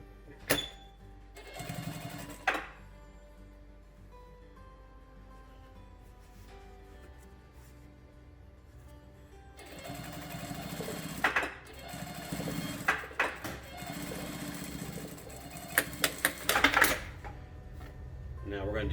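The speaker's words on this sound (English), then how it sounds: "we're going to top stitch" A sewing machine top stitches across the seam of a fabric face mask in short bursts of rapid mechanical whirring, separated by pauses and small clicks, while someone speaks in between.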